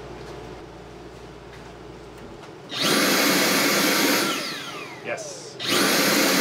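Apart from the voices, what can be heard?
Dyson Airblade hand dryer running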